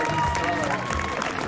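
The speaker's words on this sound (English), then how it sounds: "Big round of applause." An audience at a bar-show broadcast applauds and cheers for a contest winner: dense, steady clapping mixed with crowd noise, with voices talking over it throughout.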